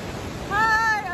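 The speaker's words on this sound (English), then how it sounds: "We made it to the third waterfall in Campo Tures." Waterfall in Campo Tures, Northern Italy, a brief steady broadband rush of falling water with a short high tonal sound rising over it midway.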